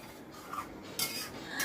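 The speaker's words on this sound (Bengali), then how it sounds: "একটু নাড়াচাড়া করে দিলাম।" Egg gravy stirred in a cooking pot with a utensil, giving a few soft scraping clinks, louder bursts near the middle and end, with no talking.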